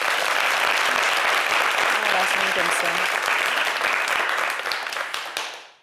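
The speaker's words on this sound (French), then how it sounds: "Applaudissez maintenant." A crowd applauds loudly and steadily, the clapping dense and sustained before fading out at the end, while someone speaks briefly over it.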